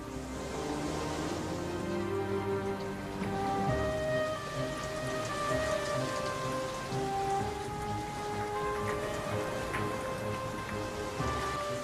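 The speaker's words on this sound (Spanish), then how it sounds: "La lluvia cubrió toda la tierra." Heavy rain pours steadily over land during a flood, a dense, unbroken hiss of drops hitting surfaces throughout, with soft musical tones woven faintly underneath and no voices.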